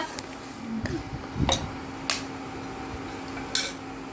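A metal utensil stirring turmeric powder into a spice mixture in a pan with coconut, scattered clinks and scrapes against the pan, a few sharper taps spread over a quiet background.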